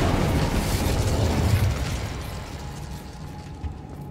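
A fiery Incendio spell cast in Hogwarts Legacy bursts with a loud whooshing roar of flame that slowly fades into a crackling, rumbling tail, heard alone without speech.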